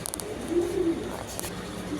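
Racing pigeons coo softly nearby in a short low murmuring phrase, with a few faint rustles and flutters around it.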